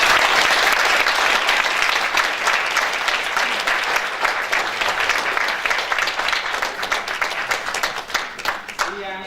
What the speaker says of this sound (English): big applause for Mr. Gregor